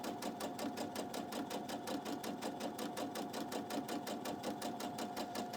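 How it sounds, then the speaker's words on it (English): A sewing machine runs steadily, stitching seams a quarter inch apart on a half rectangle triangle quilt block, its rapid even needle rhythm close and continuous throughout with no talking. "I sewed 1/4 inch on either side"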